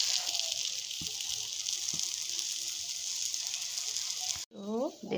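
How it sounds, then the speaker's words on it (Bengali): Vegetable parathas fry in a pan with a steady, bright hiss and a couple of soft knocks as they are turned, before a voice begins talking. "আমি এখন উলট পালট করে এরকম করে ভেজে নিব সবগুলা"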